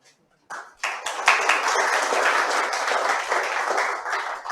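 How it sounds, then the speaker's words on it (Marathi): After a brief silence, an audience at a competitive-exam guidance talk breaks into clapping that swells quickly and holds as a full, steady round of applause to the end. "आता सगळ्यात पहिली कुणी टाळी वाजवली"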